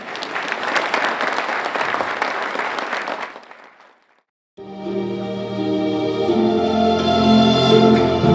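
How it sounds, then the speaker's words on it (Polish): An audience applauds at a business award ceremony: dense, loud clapping fades out, then after a brief silence fresh applause rises again, full and sustained. "Proszę o wielkie brawa."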